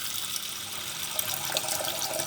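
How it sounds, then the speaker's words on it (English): Water runs from a kitchen tap into a cooking pot, a steady close hiss and splash with small bubbling variations, no voices over the flow. "Fill that with water."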